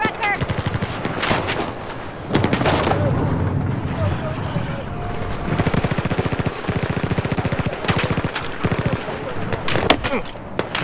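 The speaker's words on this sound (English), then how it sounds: "Where they shooting from?" Rapid bursts of automatic gunfire from Battlefield 4 on the deck of the USS Valkyrie, loud and close. The bursts come in repeated volleys and are broken by short pauses, with voices talking underneath.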